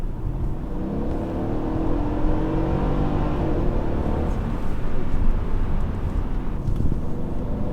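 A 2014 Mercedes E550 pulls from about 45 mph, a deep smooth engine drone rising gradually in pitch under steady road and cabin noise, heard from inside the car.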